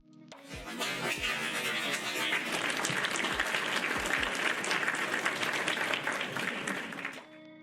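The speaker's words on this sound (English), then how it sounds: "Clap." Audience applause at a play staging, a dense burst of clapping that rises quickly, holds steady for several seconds, then stops abruptly.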